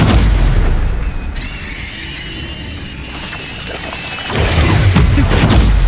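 Spell blasts in the video game Hogwarts Legacy during a duel with Expelliarmus, Stupefy and Incendio: loud booming impacts at the start and end around a shimmering, squealing magical tone in the middle.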